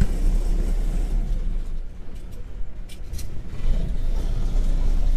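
A 1957 Chevrolet Corvette with fuel injection runs with a low, steady engine rumble, the sound swelling slightly as it picks up near the end, with no talking.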